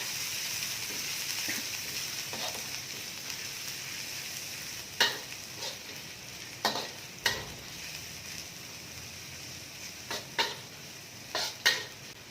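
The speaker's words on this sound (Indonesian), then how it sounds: "kita masukkan dulu bawang putih dengan halia. Kita tumis sehingga wangi." Garlic and ginger stir-fry in a pan for crab cooking, a constant soft sizzle broken by sharp scrapes and knocks of a utensil against the pan, heard up close with no talk.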